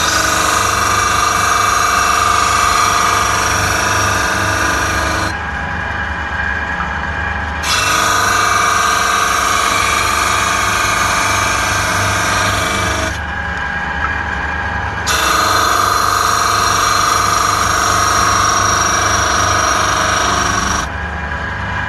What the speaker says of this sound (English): Over to the disc sander, I should say.